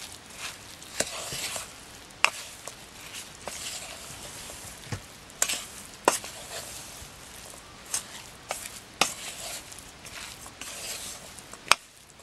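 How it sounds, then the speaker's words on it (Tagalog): Beaten eggs are stirred into a kabocha pumpkin stuffing, giving soft, wet squelching with scattered spoon clicks against the bowl, quiet and close, with no talking. "I-mix nating mabuti hanggang mag-combine siya lahat."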